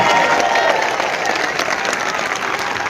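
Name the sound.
church crowd applause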